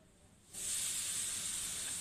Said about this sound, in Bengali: এই যে আমি ভালো কষিয়ে নিচ্ছি,